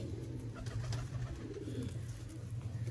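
Breeder pigeon pairs in a loft coo softly and repeatedly, low rolling calls layered over faint background noise with no talk.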